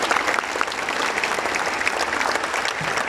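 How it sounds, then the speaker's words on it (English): Sustained applause from a crowd of students at a school assembly, dense and steady throughout with no gaps. "Give a huge round of applause for class 11D."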